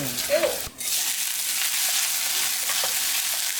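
Garlic stir-fried in a pot for a winter sweet-corn pot rice dish crackles with a loud, continuous close sizzle, broken by a brief dip as it is moved, with faint scraping throughout.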